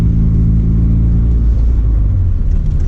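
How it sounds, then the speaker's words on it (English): A manual car accelerates after the clutch is released in second gear, its mid-pitched engine rumbling steadily and loudly from up close with a low, continuous drone. "Now, clutch in, second gear, release clutch, put gas back in."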